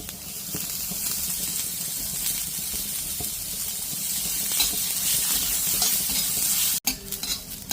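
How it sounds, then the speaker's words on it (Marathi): A small chopped onion fries in a little oil, giving a continuous close sizzle with stirring scrapes over it, then a sharp clunk near the end followed by quieter sizzling. "तो मी भाजून घेणार आहे तेलावरती"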